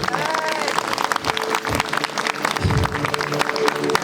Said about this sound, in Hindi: ताली बजाएंगे सब यीशु मसीह के लिए।